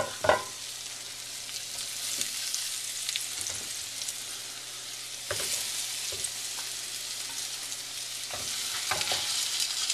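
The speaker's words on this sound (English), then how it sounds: "So now I got my pork chops. I'm going to go ahead and lay them in there. Oh, listen to that." Pork chops sizzling steadily in hot olive oil, a continuous crackling hiss with occasional louder pops and spatters, close up.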